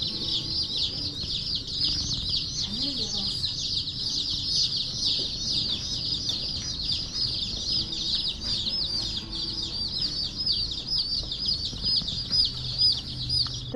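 Newly arrived baby chicks peep continuously in a brooder setup, a dense chorus of high, shrill chirps layered over soft rustling and low background rumble.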